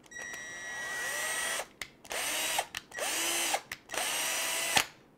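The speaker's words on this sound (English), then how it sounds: "I pre-drilled my holes." Small power drill pre-drilling holes for 3 mm screws on an RC crawler shock build, steady high whirring in three or four close, loud runs with brief pauses as the motor revs and slows between them.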